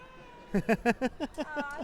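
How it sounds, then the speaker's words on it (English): A cat meows in a quick series of about six short, bright, harmonic calls, fairly close and clear, with faint background murmur of a livestream setting. "Oh, my cat."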